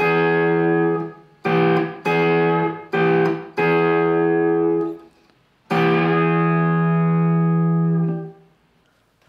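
Electric guitar blues lick with a string bend up to the major third, several short picked notes followed by a long sustained bent note ringing out and fading, played alone.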